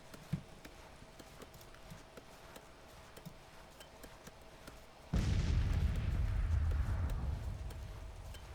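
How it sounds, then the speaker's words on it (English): Civil War-era artillery in Grand Tactician at Second Manassas: after several seconds of faint thuds and ambience, a heavy cannon boom erupts and rolls on as a deep sustained rumble that slowly fades. "And they're taking artillery fire"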